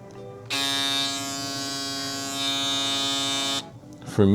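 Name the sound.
electric shaver running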